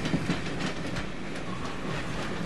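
An intercity passenger train runs steadily on its rails, a continuous loud rumble with rhythmic clickety-clack from the wheels and no talking.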